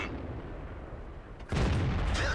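A tank cannon round fired in the video game World of Tanks: a low, steady engine rumble, then one sudden loud boom that rings on to the end.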